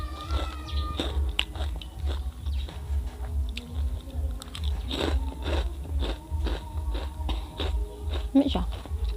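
Spicy chicharon from Carcar crunches loudly as it is bitten and chewed up close, in a series of crisp cracking bites followed by wet chewing, with a faint voice murmuring underneath.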